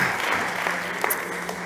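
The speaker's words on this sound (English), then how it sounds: "Big applause to Mauro." Steady audience applause fills a startup competition stage at an enterprise pitch event, dense and continuous clapping from a crowd with a voice faintly underneath.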